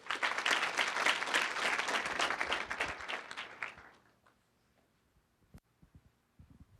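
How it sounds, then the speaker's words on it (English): An audience at the 2014 WLA opening session bursts into dense, sustained applause for about four seconds before it dies away, leaving a few scattered claps and faint room sounds. "Come on, let's give them another round of applause."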